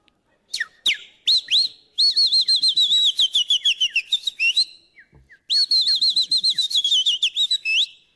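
A person whistles an imitation of a chaffinch call, a series of bright rapid warbling phrases, loud and close, repeated in two long bursts after a few short opening notes.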